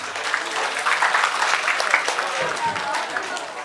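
Students applaud during a first-day school orientation session at a public senior high school, a dense, fairly even patter of many hands clapping that holds steady for several seconds.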